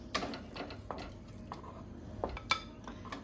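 Metal utensils scrape and clink against a pan as cooked chicken is lifted out after the gas is turned off: a handful of sharp, irregular clinks and scrapes, close and moderately loud, with no talking.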